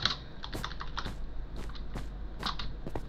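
Rapid clattering keystrokes on a computer keyboard with failing batteries during a Minecraft Bedwars game, a steady close-up run of light clicks with a few sharper taps.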